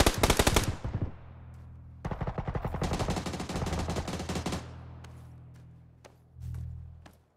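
Rapid automatic gunfire from the video game PUBG, two loud sustained bursts a second apart, the later one lasting about two and a half seconds, followed by a few scattered single shots and a low thud.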